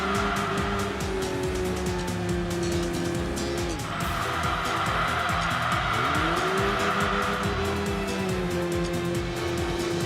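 A race car in Enthusia Professional Racing holds full throttle through a big banked corner, its engine whine steady and loud, briefly dipping and rising again amid continuous tire squeal and road noise.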